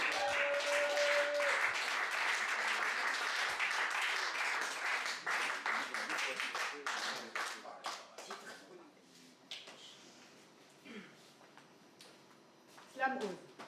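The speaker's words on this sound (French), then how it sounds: "Veuillez accueillir, s'il vous plaît, dans un tonnerre d'applaudissements, Ryu." An audience at a slam poetry contest applauds loudly at first, the dense clapping gradually thinning into scattered claps as it fades, with a voice briefly heard near the end.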